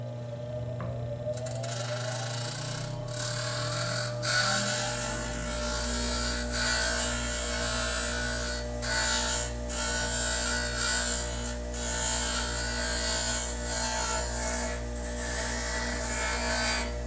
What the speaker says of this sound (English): I'm going to do a little more work here on this grinder and then take it and put it on the sander